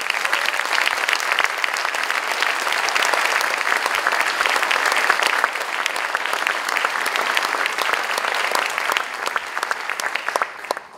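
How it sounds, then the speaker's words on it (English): An audience claps loudly and continuously for student performers at the Mass Band Festival, September 2017, a dense sustained round of applause that begins to thin at the very end. "how about one more round of applause for the real stars tonight"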